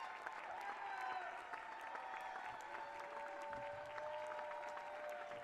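Crowd in a gym at a high school boys' varsity basketball game claps and cheers steadily, with a faint voice over the loud, sustained applause.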